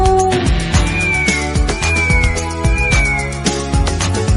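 Cat meows, several drawn-out rising and falling calls, sound over a bouncy children's rhyme backing with steady percussion hits, loud and upfront throughout.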